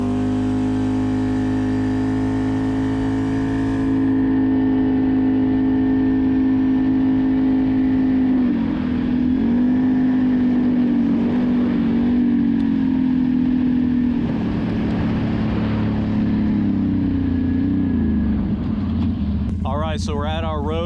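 A 2019 Can-Am Renegade 1000 XMR ATV drives along with a steady, loud engine drone that rises and dips in pitch, with people talking over it throughout.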